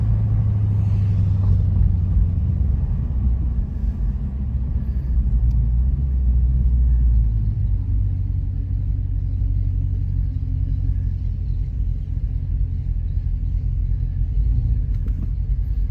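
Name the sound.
muscle cars idling and rumbling in line at rally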